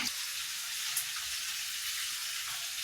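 Steady, quiet sizzling of food frying in a pan, a continuous hissing crackle with no talking.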